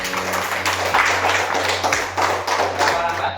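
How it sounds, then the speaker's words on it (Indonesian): Several people clap together in a classroom, a brisk run of sharp, close handclaps over a low steady hum, fairly loud. "kita kasih tepuk tangan"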